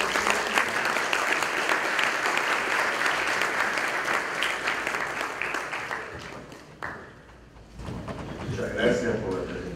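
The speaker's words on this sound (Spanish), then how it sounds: "Invitamos y recibimos con un fuerte aplauso el inicio de la conferencia" Sustained applause from a conference audience welcoming the start of a talk on industry and national development, filling most of the stretch before dying down, after which a speaker's voice begins.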